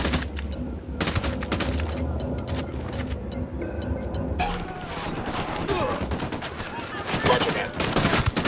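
Sustained automatic gunfire from a squad in Ghost Recon Wildlands, Caimanes Province, dense overlapping bursts over a rumbling vehicle-like background, with a player speaking over the fighting.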